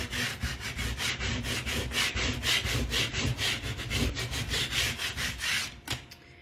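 Rapid back-and-forth scrubbing on layered craft vinyl, a dense run of short rasping strokes repeating steadily and close up, with no talk, ending in a brief pause.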